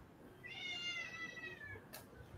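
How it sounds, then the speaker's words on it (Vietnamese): A cat gives a single drawn-out, rising then falling meow, quiet and slightly distant, followed by a faint bump near the end. "có con mèo nó đang lên sao, nó kêu sorry"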